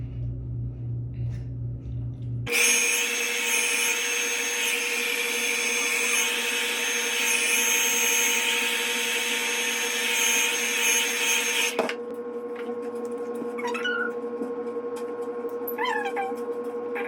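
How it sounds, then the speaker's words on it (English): Hair dryer drying a wig, a loud steady whir starting after a quiet opening and running without a break, then cutting off abruptly, leaving faint room noise and small handling sounds. "You use a blow dryer,"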